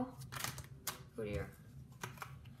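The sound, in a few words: shuffling a deck of playing cards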